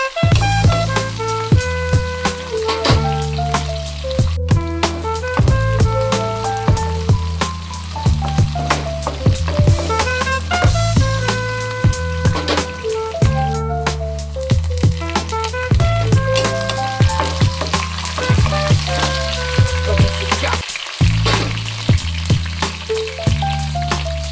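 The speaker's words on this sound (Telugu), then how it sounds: "ఉల్లిపాయలు వేగినాయి" Onions frying in a pan for fish pulusu give a steady, close sizzle that runs throughout beneath continuous background music with a repeating bass line.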